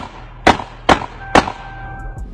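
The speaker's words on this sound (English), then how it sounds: "shots start going off and the live just ends" Three sharp gunshots ring out about half a second apart during an Instagram live stream, loud cracks each with a brief ringing tail, followed by faint softer knocks.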